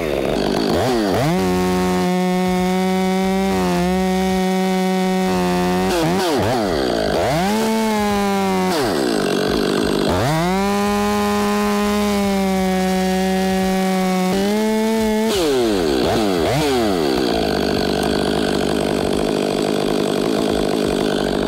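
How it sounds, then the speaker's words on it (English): A big power saw cuts through wood in several long passes, its motor whine dipping as each cut bites and rising again between them, loud and close with no talk over it. "All right, big saw time."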